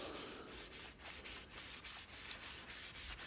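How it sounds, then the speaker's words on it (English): A rag rubs Danish oil over a walnut vise handle in quick, rhythmic back-and-forth strokes, a soft, faint swishing with no talking. "we're going to just kind of generously rub that all over the handle"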